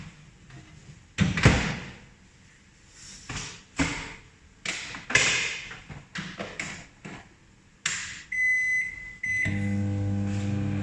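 A steady low microwave hum begins near the end after a series of knocks, a door thud and a few beeps.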